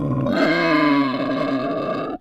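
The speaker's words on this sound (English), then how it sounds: "I was liking the bobcat sounds." A bobcat sound effect gives a single loud, raspy snarling growl with a grunting, guttural tone, sustained for about two seconds before cutting off abruptly, with no other sounds.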